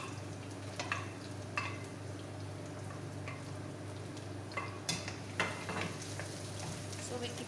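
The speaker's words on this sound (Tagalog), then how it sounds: "And then we put our onions." Chopped onions sizzle with garlic in a home cooking pan, a soft continuous fry with occasional light clinks of stirring utensils.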